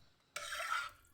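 One quiet scraping swish of a utensil stirring a homemade soap cleaning mixture inside a pot, lasting about half a second.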